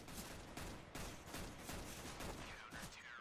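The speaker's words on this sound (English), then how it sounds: "And there it is, Skits with a headshot" Rapid gunfire in a Counter-Strike-style competitive match, several sharp shots in quick succession over busy game noise, ending in a headshot kill.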